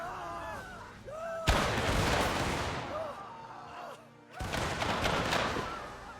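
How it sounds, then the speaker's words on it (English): Two loud musket volleys crash out from a line of soldiers in the Mount & Blade Warband American Civil War game, each a sudden broadband blast with a long rumbling tail, while a faint voice is heard beforehand. "All right, let's give him a volley."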